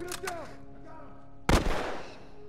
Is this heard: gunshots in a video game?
yes